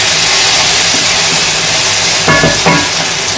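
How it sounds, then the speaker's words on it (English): Steady broadband sizzle of an egg frying in a pan, loud and close, with a couple of brief clatters near the end. "And now we're gonna put an egg in our frying pan."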